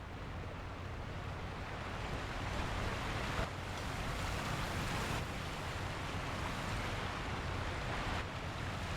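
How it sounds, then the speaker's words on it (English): A roaring waterfall in Sekiro: Shadows Die Twice gives off a steady, dense wash of broadband rushing noise. It sounds constant and fairly distant, with no voices over it. "The noise of the roaring waterfall is deafening."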